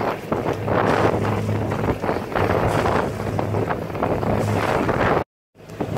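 Sailboat underway in strong wind on a beautiful day on the way to Marina Cay, Tortola, with steady loud wind buffeting and rushing water and hull noise throughout, cutting out briefly near the end.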